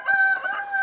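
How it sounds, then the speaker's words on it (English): A rooster crows once from a barn, the call drawn out and fairly clear over an outdoor scrapyard in snowy weather. "Chickens are crowing from the barn over there."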